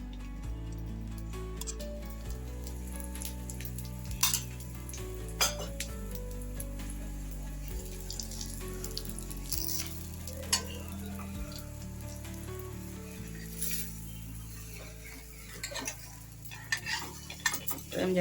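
Omelette chapati roll cooking in a little oil on a pan, soft sizzling beneath repeated spatula scrapes and clinks of metal on the pan, close, over a steady low hum.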